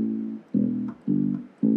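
A deep electronic keyboard bass voice, preset 044, plays three sustained low notes in a steady rhythm, separated by short gaps, with no voices.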